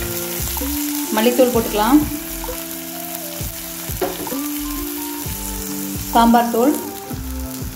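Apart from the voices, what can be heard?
frying masala spices in a pan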